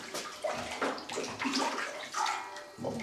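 Water poured into malts for brewing Finnish sahti, a steady loud splashing and gurgling stream that lasts throughout with uneven surges.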